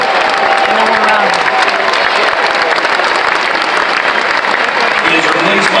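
A soccer crowd claps and cheers in a steady, dense wash of applause that fills the whole stretch. A faint voice speaks underneath.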